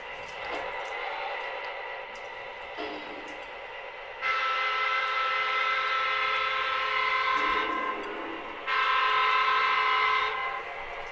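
A Conrail SD70MAC model locomotive runs on a layout, sounding repeated loud horn blasts over a quiet running hum, with pauses between the sustained horn calls.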